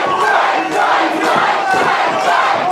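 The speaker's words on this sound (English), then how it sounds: "The crowd and their opponents egging them on" A dense wrestling crowd roars and chants continuously, urging the wrestlers on during a tag-team match, loud and close with swelling rhythmic shouts.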